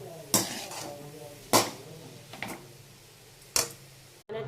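A utensil clanks against a cooking pan while chili powder, turmeric, coriander-cumin powder and salt are stirred into a carrot fry. Three or four distinct metallic knocks sit over a quiet, hushed background.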